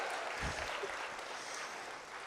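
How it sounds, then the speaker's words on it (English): Scattered applause from Six Flags pass holders gathered at an evening ride reveal event, a brief, fairly soft wash of clapping with a faint low thump near the start. "Give yourselves a round of applause."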